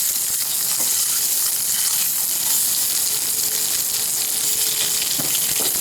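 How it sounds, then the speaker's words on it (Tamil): Eggs and masala frying for egg biryani over a very low flame, giving a steady, even sizzle with soft crackle that holds throughout, no voices. "ஃபுல் ஸ்லோ ஃப்ளேம்லேயே நீங்கள் இதை ஃப்ரை பண்ணணும்."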